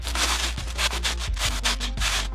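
Rapid, steady back-and-forth scuffing of Chamonix Montenverse pant fabric being rubbed hard against a rough surface, a loud close rasping rhythm of strokes repeating about every quarter second, with no talking.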